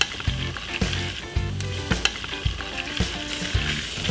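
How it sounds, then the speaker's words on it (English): Prawns and garlic frying in hot oil in a pan hiss steadily, with scattered pops and clinks of stirring, close up and without talk. "Once I can smell that garlic sizzling away and getting beautifully fragrant, I'm gonna add in my prawns."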